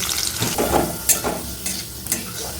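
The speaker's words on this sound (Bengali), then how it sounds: "গাজরগুলোকেও এরকমই লাল লাল করে ভেজে নেব" Sliced carrots frying in hot oil in a pan sizzle steadily up close, with occasional stirring scrapes and clinks.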